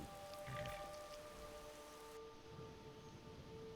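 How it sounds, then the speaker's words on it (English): Steady rain in Skyrim, near Riften, patters softly in the background, with faint tonal hums and a dull low rumble. "Why is it always raining?"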